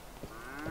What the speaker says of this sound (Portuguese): Ó o boi chamando